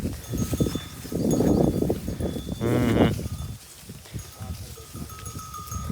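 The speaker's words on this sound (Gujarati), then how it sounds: "આટલા ઢોર રહ્યા ને આટલામાં 2 ગોવાથી, એક આ બબ્બુ અને એક હર્ષદ." Cattle and other livestock move about on a farm: low mooing and bleat-like calls, rustling, and steady background noise, with faint human voices mixed in.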